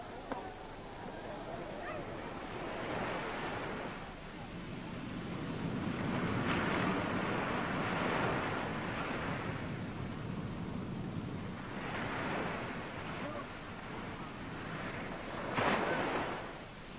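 Ocean waves break on a Bali shore in slow, broad surges that swell and fade every few seconds, steady and moderately distant, with no voices over them.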